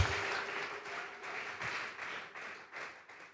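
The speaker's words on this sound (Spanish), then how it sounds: "Vamos a regalarle ofrenda de palmas al Dios de la gloria." A church congregation claps together in applause, a dense, steady patter of many hands with gently rising and falling waves, fairly soft and heard without talking.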